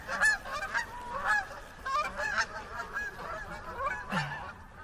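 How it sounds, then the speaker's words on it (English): Spooked Canada geese honk loudly and repeatedly, a raucous flurry of overlapping nasal calls in uneven bursts, fairly close and continuous throughout. "those are Canadian geese"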